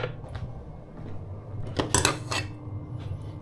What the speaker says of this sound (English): Using the same whisk.